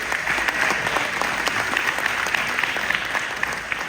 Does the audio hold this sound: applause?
yes